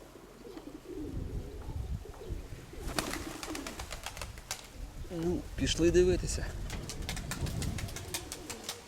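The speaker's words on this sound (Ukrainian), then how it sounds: "Ось біла голубка перша." Pigeons, including a white one, coo in soft, throaty bursts close by while someone talks briefly, with shuffling and handling noises around them.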